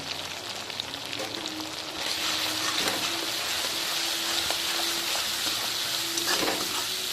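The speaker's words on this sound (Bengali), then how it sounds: "আবার আমি একটু কষিয়ে নেব" Chilli powder, turmeric and green chilli paste sauté in oil for a parshe fish curry, making a continuous close sizzle that grows louder partway through. Scattered stirring scrapes run under it, with no speech.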